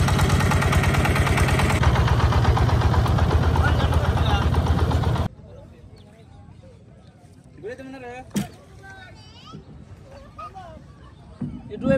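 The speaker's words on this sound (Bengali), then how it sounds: "নৌকাটি ছেড়ে দিছে" A boat's engine idles with a steady, loud mechanical drone as the boat sets off from a remote river char village in Sirajganj, Bangladesh, then cuts out abruptly, leaving quiet outdoor ambience with faint voices and scattered sounds.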